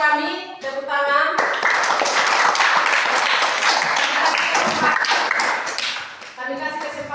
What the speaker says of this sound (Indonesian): Oke, kepada siswa kami, tepuk tangan.